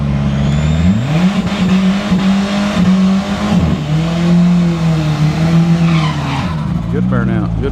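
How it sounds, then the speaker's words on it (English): A drag racing car does a burnout at Newport Raceway, its engine roaring loud and steady while the tires squeal for several seconds, with a commentator's voice mixed in toward the end. "Good burnout."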